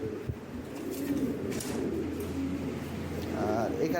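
Pigeons coo softly and continuously at a fancy pigeon market stall, including a large opal-coloured male, with someone talking over the low cooing.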